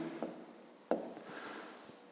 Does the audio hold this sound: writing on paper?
yes